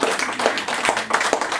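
An audience at a talk in a wine shop claps briefly: a short stretch of dense, mid-volume applause with a few sharper individual claps standing out.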